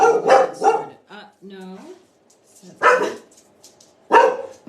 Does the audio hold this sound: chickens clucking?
no